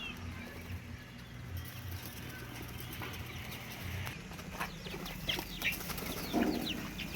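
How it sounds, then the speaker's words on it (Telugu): Month-old chicks and two-month-old young chickens peck and cluck softly inside a fenced poultry farm enclosure, with scattered short calls and rustling over a steady low background hum. "ఇవి నెల రోజుల వయసు గల కొడి పిల్లలు ఇవి ముందు వెళ్ళినవి రెండు నెలల వయసు గల కొడి పిల్లలు"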